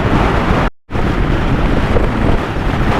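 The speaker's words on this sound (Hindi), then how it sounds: "बहुत हवा चल रही है बहुत।" Strong wind buffets the microphone of a motorbike riding fast on a mountain road near Leh and Magnetic Hill in Ladakh, a loud, steady roar broken by one brief dropout.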